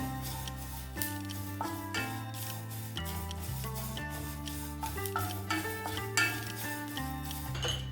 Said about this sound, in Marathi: आता ह्यामध्ये ना आपण कढीपत्ता घालून घ्यायचा आहे। तो पण 1-2 मिनिटं आपण परतून घेऊया।